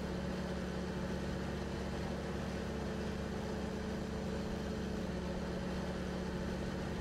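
A tractor engine idles in the Farming Simulator 2013 video game, a steady low drone that runs unbroken and even throughout.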